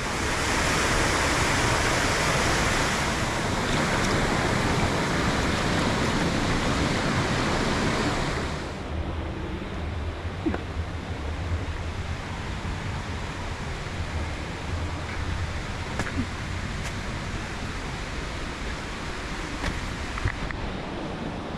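Steady, dense rush of the Oído del Mundo waterfall near Minca, Colombia, loud and close at first, then dropping to a softer, more distant roar that continues to the end.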